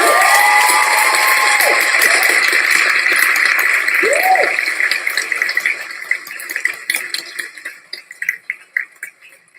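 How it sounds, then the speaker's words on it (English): School round of applause with cheering from a crowd, loud and dense at first, then thinning into scattered claps toward the end. "So let's end with a big Wheatfield round of applause."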